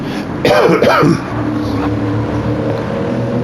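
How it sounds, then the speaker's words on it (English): A couple of rough, throaty coughs sound close to the microphone, followed by a steady engine-like hum in the background. "I'm really sorry about the coughing."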